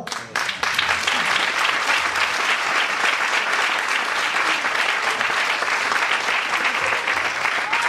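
A school audience at a Pastorets nativity play applauds steadily and loudly, a dense wash of clapping that starts abruptly and continues without pause.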